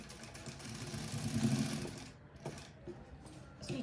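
A sewing machine stitches along the lower edge of an Aari-work blouse in a fast, whirring buzz that rises, then stops abruptly, followed by a few brief mechanical taps and a short restart.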